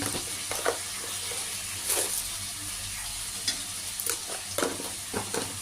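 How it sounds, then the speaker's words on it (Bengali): Spices with chilli powder and a little sugar being stir-fried in a pan for a bottle gourd and tengra fish dish, a steady soft sizzle broken by repeated scraping strokes of a spatula, close by with no voices. "এবার আমি মশলাটা কষতে থাকবো"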